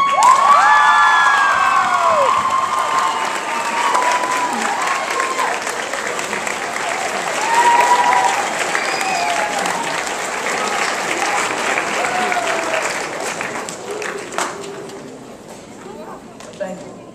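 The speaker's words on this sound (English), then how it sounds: "I want all 8th graders to stand and applaud our teachers from all middle school." A large crowd of 8th graders at a middle school graduation stands and applauds their teachers, with loud sustained clapping mixed with cheers, whoops and shouting children, swelling again midway before thinning out toward the end.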